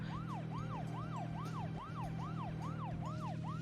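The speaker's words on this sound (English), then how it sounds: "I should probably do the sirens." Repeating wailing car siren in the video game Deadly Premonition, rising and falling in a regular cycle about every half second over a steady low engine hum.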